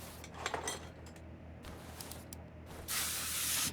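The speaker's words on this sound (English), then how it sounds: "Spray the bolt." A spray can hisses onto a bolt while a mechanic strips the wheel hub of a yellow sport-edition Ram 1500 in the game Car Mechanic Simulator 2021, with a loud, broad burst of spray near the end after lighter clinks of parts.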